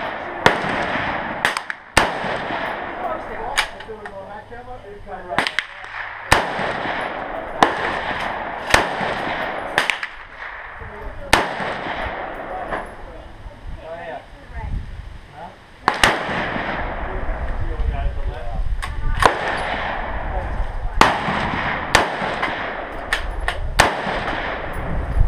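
An AR rifle fired at a 50-yard target, sharp loud shots spaced irregularly across the clip, with people talking between them.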